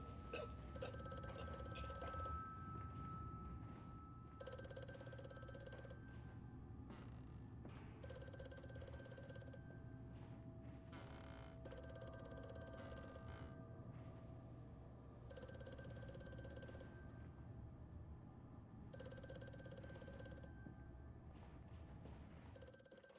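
A telephone rings in Amnesia: The Dark Descent, repeated bursts of ringing every few seconds, fairly quiet and steady, with no one talking.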